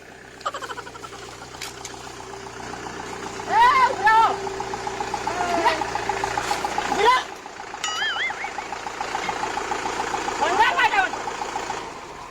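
A tractor engine idles with a steady low rumble throughout while several voices talk and call out nearby.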